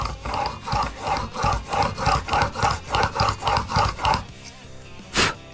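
A steel woodworking chisel blade is stroked back and forth on a sharpening stone, a rhythmic series of about a dozen close, gritty scraping rubs, ending with a final single swipe after a short pause.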